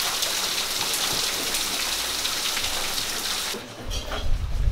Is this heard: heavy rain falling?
yes